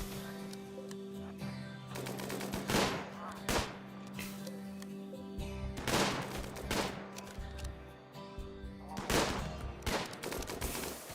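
Bursts of gunfire from raiders in a RimWorld tribal colony game, trying to shoot their way in through a wall; several loud volleys recur every few seconds over a steady low hum, with faint bird-like cooing in between.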